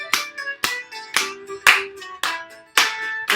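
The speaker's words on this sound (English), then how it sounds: "Let's add a clap." Single sharp hand claps ring out six times at an even, unhurried pace during a Grade 2 music lesson, each loud and close with a short resonant tail, with no voices between them.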